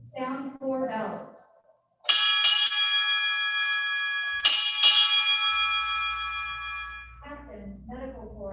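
Ship's bells struck at a US Navy retirement ceremony for arriving officers: two quick pairs of loud, ringing metallic strikes that sustain and fade, with talk before and after.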